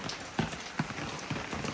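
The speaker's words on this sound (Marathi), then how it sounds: "पाऊस काय पाठ सोडत नाही आमची" Steady rain falls on surfaces during a monsoon trip in the Konkan region, a close, dense patter with a few heavier drips standing out.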